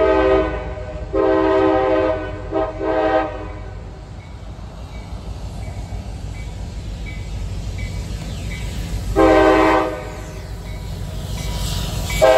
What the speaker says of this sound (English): got a short CSX coming down